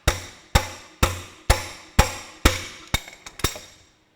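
Hammer tapping a crankshaft bearing cap on a 1954 Ferguson TEA20 tractor engine, about nine sharp metallic knocks at a steady half-second pace, the last few quicker and lighter, close and loud with no voices.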